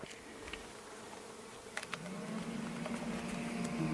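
Honeybees humming in an opened hive during an early spring inspection, a soft continuous drone that swells slightly, with a few faint clicks and handling noises close by.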